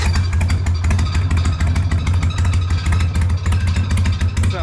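Harley-Davidson Sportster 1250, a big-bore 883 build, running with its exhaust baffles removed: a loud, steady, throaty rumble with rapid pulsing firing beats, close and continuous throughout.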